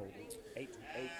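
Sheep bleating during a lamb auction sale in Seward, Nebraska: a couple of short bleats sounding close by amid busy sale-ring chatter, with talk running through the clip.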